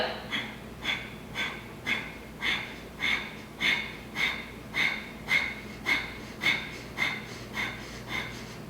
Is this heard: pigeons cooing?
no